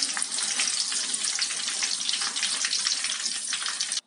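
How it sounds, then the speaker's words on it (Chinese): A leftover roast duck carcass, coated in flour, deep-fries in a wok of hot oil with a steady, dense, crackling sizzle that holds evenly for about four seconds and then stops abruptly. "油温高一点，给它炸到表面金黄就可以了，也不用再复炸"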